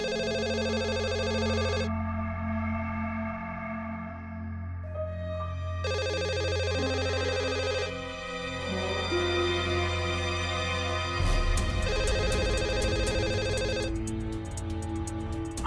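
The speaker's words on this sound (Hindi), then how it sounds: "उस दिन देर रात गोविंद का फोन आया।" A telephone rings in repeated electronic bursts, a bright melodic ringtone pattern that pauses and resumes, steady and clear, with no voices.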